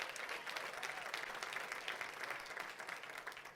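A church congregation applauds steadily during a sermon, a dense wash of clapping that holds at an even level throughout with no voices breaking through.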